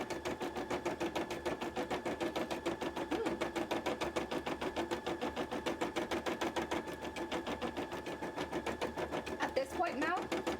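Sewing machine stitching steadily during cosplay crafting, a fast, even, continuous rhythmic whir and patter that runs without pause, close and moderately loud, with a voice briefly audible near the end.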